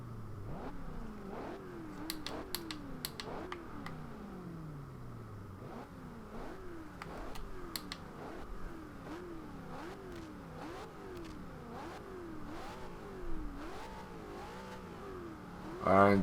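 A fully upgraded 2015 Ford Mustang GT in the racing game Forza Horizon 2 revs repeatedly, its engine note climbing and dropping in a steady sawtooth of throttle blips, fairly quiet and alone.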